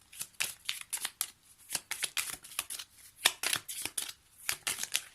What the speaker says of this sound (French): on va prendre encore une dernière carte